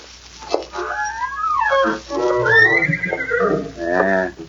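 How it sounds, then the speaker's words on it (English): A mare whinnies in her stable stall, giving several loud, close neighs with rising and falling pitch and a fluttering, rapid quaver at the end, with no talking over them. "Where's the horse now? In the next stall. Mind if I look at her?"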